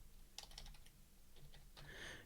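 Keys tapped on a computer keyboard while entering a SQL command in the PostgreSQL SQL Shell, a short run of quiet clicks in a soft, close burst followed by a few more scattered presses.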